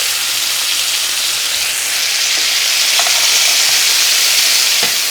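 Scallops searing in a hot cast iron pan, a loud, dense, unbroken hiss of fat spitting close up, with a couple of faint clicks near the end.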